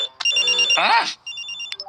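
Old-style telephone bell rings in short bursts in an animated children's program, with a brief voice murmur in between the rings.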